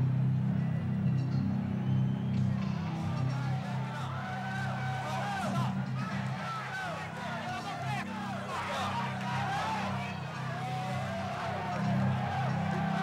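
A packed boxing arena crowd roars continuously as the heavyweight champion Mike Tyson makes his entrance for his fight with Michael Spinks, a loud, dense din with a tonal thread running through it.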